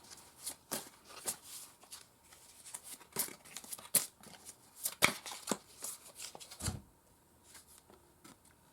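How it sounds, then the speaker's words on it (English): Oracle cards being shuffled and drawn for a tarot-style reading: a series of quick, close riffling and flicking card sounds, soft and irregular, with brief crisp slaps between quieter pauses. "now we're pulling from the Oracle card, your messages"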